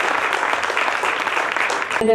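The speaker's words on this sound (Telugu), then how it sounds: "ఫస్ట్ మేడంకి చప్పట్లు" Crowd clapping for a woman guest at the opening of a rural sports festival in Nizamabad, a steady burst of applause lasting about two seconds before a voice and a brief tone cut in.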